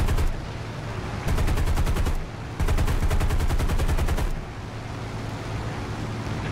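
Aircraft guns firing in War Thunder, two sustained rapid bursts of rounds over a steady engine drone, loud and close, separated by a short pause.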